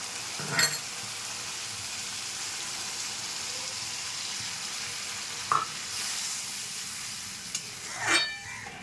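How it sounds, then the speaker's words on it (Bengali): Water is poured into a pan of frying spice masala for a Bengali bata fish jhal curry, giving a steady hiss with a few sharp spatter bursts near the start, middle and end, and no talking. "এবার আমি পরিমাণ মতো জল দিয়ে দেবো।"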